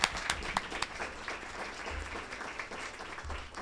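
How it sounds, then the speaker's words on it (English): Audience applause after a talk at an event, a dense patter of claps at moderate level with a low rumble underneath, holding steady for several seconds before easing off slightly toward the end. "Can we have a round of applause on that one?"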